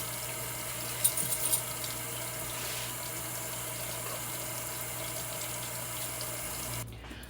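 Steady running water pours from a tap while Irish sea moss is rinsed and cleaned in a sink, a constant close wash that stops abruptly near the end.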